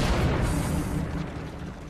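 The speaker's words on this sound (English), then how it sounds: "Michael and Peter use a replica cannon from the same era as Mehmet's bombards" A replica cannon of the era of Mehmet's bombards firing a ball, heard as a single loud broadband boom at close range that rumbles and slowly fades.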